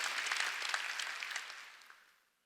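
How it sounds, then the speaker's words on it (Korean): A congregation at a Sunday church service breaks into applause, a short burst of clapping that fades out within about two seconds. "박수 치라."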